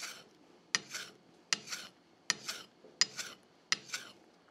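A Japanese sashimi knife honed on a whetstone, five evenly spaced raspy scraping strokes with short pauses between, close and fairly quiet, no one talking.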